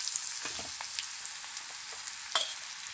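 Chopped ridge gourd goes into a pan of hot oil with fried garlic and asafoetida, giving a steady, soft sizzle with a few sharp pops and crackles, close up and without any talking.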